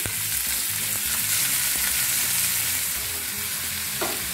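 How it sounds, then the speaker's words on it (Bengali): Chopped onion and capsicum fry in white oil in a pan, giving a loud, dense, unbroken sizzle with occasional soft stirring knocks, close up and without talk. "প্যানে আমি সাদা তেল দিয়ে দিচ্ছি। দিয়ে দিচ্ছি কিছুটা পেঁয়াজ কুচি, দিয়ে দিচ্ছি কিছুটা ক্যাপসিকাম কুচি"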